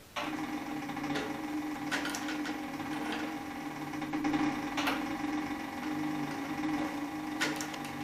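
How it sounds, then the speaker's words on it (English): A Cowboy CB3200 leather sewing machine slowly stitches a leather belt, a steady hum with repeated ticking and creaking clicks at a slow even pace, close and moderately loud. "You can hear the machine creaking a little bit."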